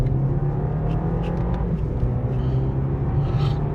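A 2024 BMW 320i M Sport accelerating, heard from inside as a steady low engine drone and road rumble, moderately loud and continuous without a strong rise in pitch.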